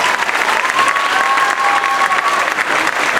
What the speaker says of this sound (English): Give our fourth graders a round of applause.